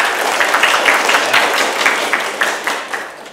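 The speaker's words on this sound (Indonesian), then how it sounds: "Terima kasih, beri tepuk tangan mulia." Applause from a school audience at a student leadership training session, a dense steady patter of many hands clapping close by for a few seconds, fading slightly at the end.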